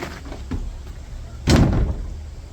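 A door in a homemade wooden wall fitted into the back of a car for camping, opening or shutting with a single sharp knock partway through, set against quiet background noise with soft talk-like sounds earlier.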